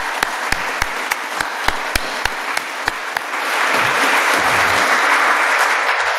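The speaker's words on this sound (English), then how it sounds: "So I like to give them a big round of applause, and all of our sponsors together" Room audience applauding a crew and sponsors, a few loud individual claps up close that swell into full, dense applause from the crowd.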